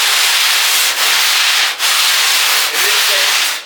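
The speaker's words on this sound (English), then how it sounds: "put pressure on the sandpaper all the way up the" Sandpaper wrapped on a flexible block rubbing along a surfboard blank during shaping, a steady close scratchy hiss in long strokes with brief breaks between passes, no talking.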